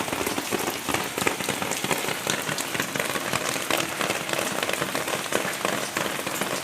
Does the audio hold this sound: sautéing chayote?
no